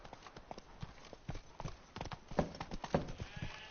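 Geralt's horse Roach walks in The Witcher 3 video game, hooves clip-clopping in a steady uneven rhythm, fairly close and soft, with a faint snort or bleat-like animal sound.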